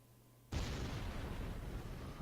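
Rocket exploding in Kerbal Space Program, bursting suddenly out of near silence into a loud, sustained roaring rumble that barely fades.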